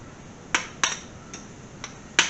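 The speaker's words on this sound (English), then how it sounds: "I'm going to have to chisel out around it, try to get a better bite" Chisel strikes knocking corrosion away from around a stuck bolt on a machine left under a tarp outdoors for twenty years: five sharp metallic taps at uneven intervals, close and fairly loud over faint background noise.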